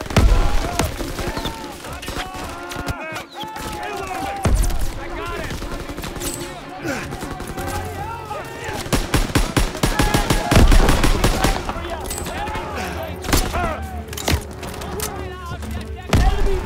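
Heavy gunfire in a Call of Duty WWII battle, loud overlapping bursts of automatic fire and single shots with thumps and booms, continuous for over fifteen seconds while soldiers shout over it.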